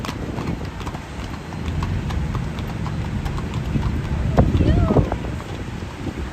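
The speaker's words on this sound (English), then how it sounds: "That's a beautiful horse." A horse's hooves clip-clop on a street near Fifth Avenue in New York City, steady and fairly close amid wind noise and city ambience.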